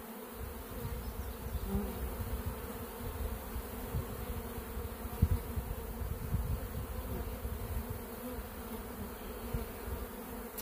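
Honey bees from a hive being worked for honey supers make a dense, steady buzz that swarms close throughout, with constant wingbeat drone and no talk.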